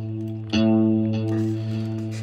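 Synth sequence on a Riffendium X sequencer page, processed with cloud reverb, chorus and delay: sustained harmonic tones with a bright note attack, thick wet reverb tail and shimmering modulation, played alone.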